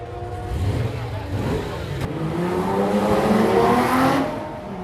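Pre-1966 Porsche 911 race cars running on synthetic fuel in the Goodwood Revival pits, engines revving and rising in pitch during pit stops and driver changes, a brief sharp crack near the middle over steady engine noise.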